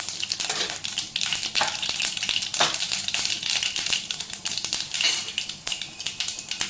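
Mustard seeds crackle and spit in hot oil in a kadai, a dense close sputtering hiss with irregular sharp pops throughout.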